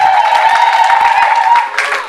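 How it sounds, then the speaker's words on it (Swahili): Church congregation clapping loudly during a Sunday offering sermon, steady dense applause with high ululation-like voices mixed in, tapering slightly toward the end. "Makofi wanawake kama mpo, na wengine vigelegele"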